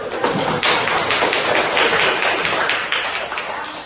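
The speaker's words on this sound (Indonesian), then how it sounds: "Baik, beri tepuk tangan dulu" Classroom of students applauding together, a dense, steady patter of many hands clapping close by for a few seconds, fading slightly toward the end.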